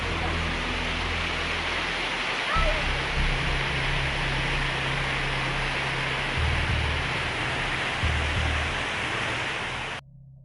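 Rushing river water forms a loud, steady broadband roar that continues unbroken for about ten seconds before cutting off abruptly.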